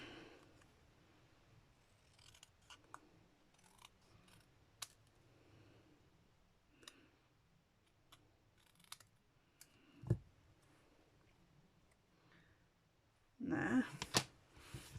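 Scissors trim paper for a handmade Christmas card, a few faint scattered snips and clicks in a quiet room, with a louder burst of crisp cutting near the end.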